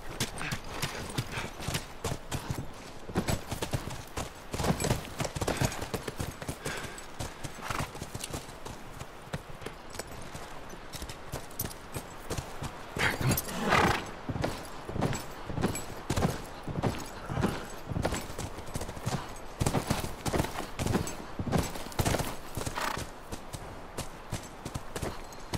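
Rapid hoofbeats of galloping horses in The Last of Us pound steadily throughout, loud and close, with an occasional whinny breaking through.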